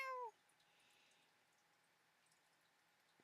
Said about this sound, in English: Just meows randomly.